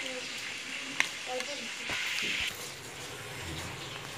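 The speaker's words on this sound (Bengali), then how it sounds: "আমার রোস্ট ভাজা শেষ" Roast pieces frying lightly in oil for an Eid meal, a soft, steady sizzle with a few utensil clicks and brief stirring noises.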